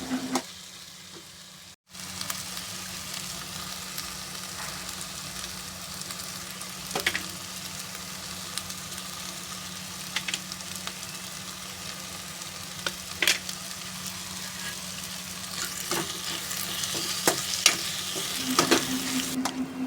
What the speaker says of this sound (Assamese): এতিয়া পেজখিনিৰ ওপৰতে মই শাক আৰু আলুখিনি দি দিছো ধুনীয়াকৈ লৰাই ৰাখিম অকমান টাইম